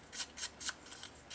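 Scissors snip through scrapbooking paper for a vintage interactive album: four or five short, crisp cuts spaced evenly, close and clear against a quiet room with no talking.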